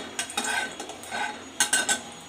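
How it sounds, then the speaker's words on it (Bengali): Whole spices, dried chillies, coriander and cumin seeds stirred in hot oil in a pan, with a few close metal scrapes and clinks of the spoon over a faint sizzle, no voices. "তেলটা যখন গরম হবে গোটা মশলাগুলো হালকা করে একটু নেড়ে চেড়ে"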